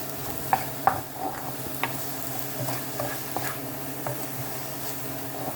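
Onions and peppers sweat in a pan for shrimp and grits, giving a soft, steady sizzle with a few clicks and taps from stirring, quiet and close, with no talk over it.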